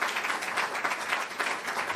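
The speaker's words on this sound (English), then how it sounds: "Let's give hard-working Brother Fontaine from Chicago a round of applause." Audience applause for Brother Fontaine from Chicago at a religious gathering, a dense steady wash of many clapping hands sustained throughout without letting up.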